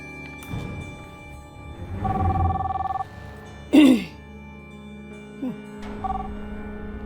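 A telephone rings during a call to a mother in an Indonesian drama, with a steady repeating ring tone and short beeps. A sharp burst of sound and faint voices appear between the rings.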